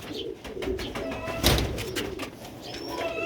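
Ferozpuri pigeons coo softly and steadily at close range, with a brief burst of wing flapping near the middle and no talking.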